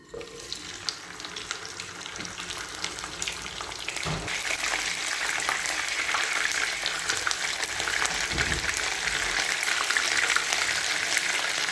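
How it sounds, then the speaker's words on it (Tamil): Dried fish (karuvadu) fries in oil with a steady, close sizzle and crackle that grows slightly louder over about twelve seconds, with occasional stirring knocks and no talking. "க்ளீன் பண்ணி அலசி வச்சுருக்க கருவாடை பொறிச்சு எடுத்துக்கலாம்"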